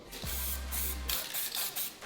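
A sustained aerosol spray of 3D-scanning spray on a car part hisses for about a second alongside a low hum, followed by a few shorter bursts of hissing.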